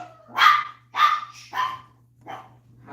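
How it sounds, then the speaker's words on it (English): Several small chihuahuas bark indoors, five sharp yappy barks in quick irregular succession, fairly close and clear over a faint steady hum, with no talk. "just my chihuahuas barking a little bit there"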